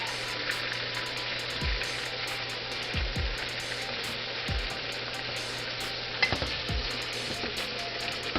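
Liver and onions fry in a pan with a steady, broad sizzle. A few low thuds and scrapes come through as the pieces are flipped, and no one speaks.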